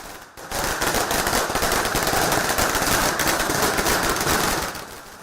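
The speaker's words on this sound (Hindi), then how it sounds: "सुबह 11 बजते बजते रायपुर में बीजेपी के दफ्तर में आतिशबाजी शुरू हुई।" Fireworks go off at a BJP office in Raipur during a celebration of an election win, sounding as a dense, continuous string of rapid crackling bangs that holds loud for several seconds before easing off.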